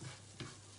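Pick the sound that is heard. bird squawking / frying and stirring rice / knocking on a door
frying and stirring rice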